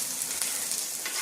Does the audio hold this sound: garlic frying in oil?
yes